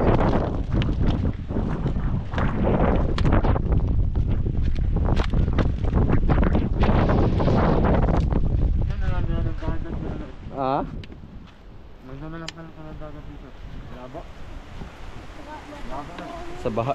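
Strong storm wind roars and buffets the microphone in a typhoon with rain, loud and continuous for about ten seconds, then easing as someone talks over it.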